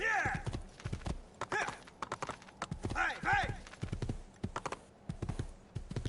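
A horse in Assassin's Creed 2 trots along with steady, close clip-clopping hooves, joined by a brief neigh, while a person talks over it at times.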